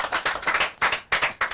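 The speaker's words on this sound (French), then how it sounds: "Bravo, applaudissements, merci." Audience applause during a French comedy show, a short burst of quick, sharp hand claps, fairly close and thin, as if from a small group.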